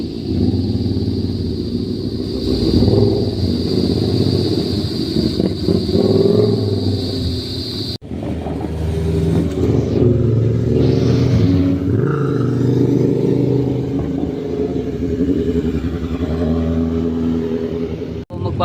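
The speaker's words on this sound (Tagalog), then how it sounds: "Naiwan yung tunog ng tambutso ni Boss Mike." A motorcycle exhaust roars and revs up close during a trip to Subic, loud and steady for the whole stretch, with a brief break partway through.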